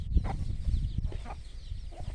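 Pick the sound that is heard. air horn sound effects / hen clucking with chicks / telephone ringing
hen clucking with chicks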